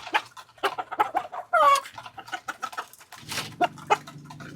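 Chickens kept as birds to feed are clucking close by in short, irregular calls, with one louder squawk partway through and quieter background clucks from the flock.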